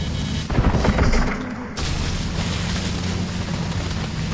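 Missiles launching and exploding in Call of Duty Advanced Warfare, a dense roaring rumble with a heavy blast that swells, fades, then gives way to a continuous loud whooshing wash.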